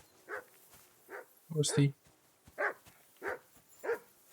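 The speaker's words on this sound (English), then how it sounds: "Call off that damn dog before he wolfs down the last of our mates." A dog in Kingdom Come: Deliverance II barks in short, evenly spaced single woofs, about five in a row at moderate distance, with a brief spoken line in the middle.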